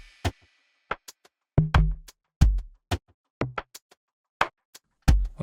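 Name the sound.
soloed Afrobeat drum pattern from UJAM KAYA drum plugin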